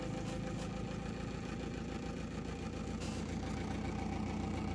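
A large, simple pulse motor runs steadily at about 20 to 21 volts, giving a dense, continuous mechanical whirring drone with a fine rattling pulse, loud and constant throughout without speech.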